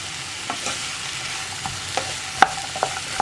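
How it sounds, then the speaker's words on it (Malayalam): A spoon stirs a bottle gourd stir-fry with salt in a pan, with light scraping strokes and a few sharp clinks against the pan over a soft background hiss, close and alone without speech. "നന്നായിട്ടൊന്ന് ഇളക്കി കൊടുക്കുക ഉപ്പ് ചേർത്തിട്ട്."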